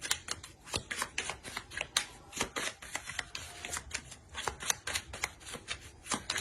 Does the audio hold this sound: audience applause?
no